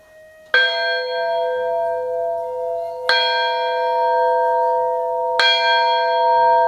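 A large cast bell is struck three times at slow, even intervals, each loud clang ringing on with a long sustained hum.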